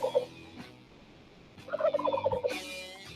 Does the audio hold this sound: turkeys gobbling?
yes